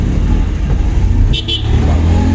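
A car pulls away in second gear during a driving lesson, its engine droning loudly and close with rising effort, and a short high electronic beeping partway through.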